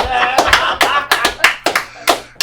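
Scattered, rhythmic clapping from a small comedy-show audience, a handful of sharp, close hand claps in quick succession with a faint voice underneath.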